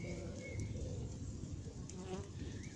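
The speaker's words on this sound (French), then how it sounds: "Abeille championne du monde qui arrive à trouver du pollen." Honeybees buzz close around an open hive while gathering pollen, a continuous droning hum with individual bees passing near, fairly faint overall.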